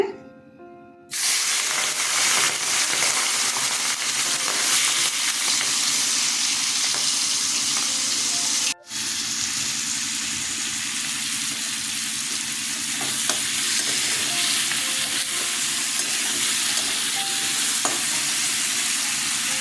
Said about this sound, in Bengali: তেল গরম হয়ে গেছে মাছ ছেড়ে দিচ্ছি